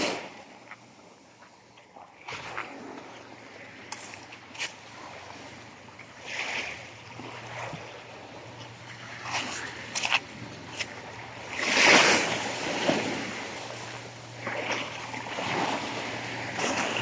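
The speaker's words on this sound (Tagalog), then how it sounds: "Lakas talaga ng alon." Strong ocean waves wash and surge continuously with wind noise, building to a louder crash around the middle, with no voices present.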